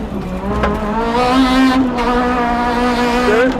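A 1995 Renault Clio Maxi rally car engine revving hard and accelerating, a loud close harmonic whine climbing through the gears with brief shift breaks, heard alone.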